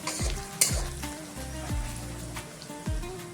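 Mutton brain frying in masala in a pan, a steady close sizzle broken by repeated scraping stirs of a spoon roughly every half second.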